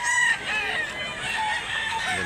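At a rooster market in Barili, Cebu, chickens cluck and crow in overlapping bursts, fairly close and steady over a short stretch, with a faint voice mixed in.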